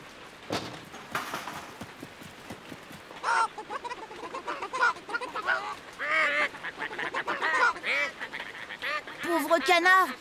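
Cartoon ducks quack and honk repeatedly in the rain, the calls growing busier and louder toward the end, with soft rain patter beneath.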